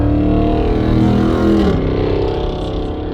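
A car engine revs steadily while driving, loud and close for about three seconds with a brief rise in pitch midway, a continuous roar with no talking.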